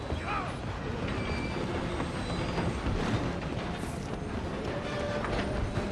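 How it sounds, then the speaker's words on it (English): Moving train in the video game Red Dead Redemption 2, a steady loud rumble and clatter of rolling cars filling the whole stretch, with other game noise mixed in. "I'm gonna ride ahead and stop the train."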